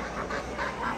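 Ducks quacking at a large outdoor poultry market in Bursa, Turkey, a few bursts of honking calls repeating at moderate level over busy crowd ambience.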